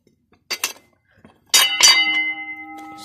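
A rotary fire alarm bell is turned by hand, giving a couple of light metallic taps and then two sharp strikes that ring out with a sustained, shimmering bell tone in an otherwise quiet room.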